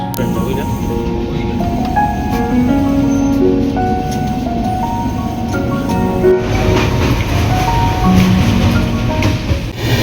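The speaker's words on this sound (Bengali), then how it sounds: "ট্রেনটা এখন যাচ্ছে মহানন্দা স্যাংচুয়ারির মধ্যে দিয়ে" Kanchankanya Express train running through Mahananda Sanctuary in North Bengal, a steady loud rumble and rattle of carriages throughout, with a brief tonal squeal near the end.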